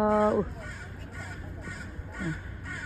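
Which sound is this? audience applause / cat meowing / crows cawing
crows cawing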